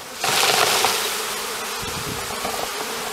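A dense swarm of honey bees buzzing close up as they are shaken from a hive frame into a container in February, a steady loud drone that swells at first then settles into a constant hum.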